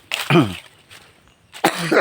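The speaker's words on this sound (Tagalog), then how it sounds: "talaga yung ubo natin hindi mawala hindi malis-alis" Two short, harsh coughs, close and loud, separated by a brief quiet pause.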